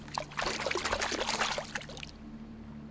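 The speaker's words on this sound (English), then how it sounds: "why is the water so loud?" Water runs and trickles through the pool rooms of the video game The Backrooms: Lost Tape, a steady close splashing rush lasting about two seconds before dropping away to quiet ambience.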